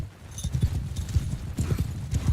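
Horses galloping in a Bannerlord video game battle, rapid rhythmic clip-clop hoofbeats thudding close and loud throughout, with a faint neigh mixed in.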